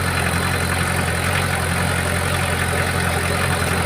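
A small vehicle engine runs steadily and slowly while towing a trailer loaded with clay, a constant close mid-pitched drone with no breaks.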